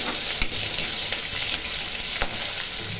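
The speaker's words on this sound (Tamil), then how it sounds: "கருவேப்பிலை, பச்சை கருவேப்பிலை போடுறோம். நல்லா வதங்கட்டும்." Curry leaves crackle and sizzle in hot oil, a dense steady frying hiss broken by a few sharp pops and stirring clicks.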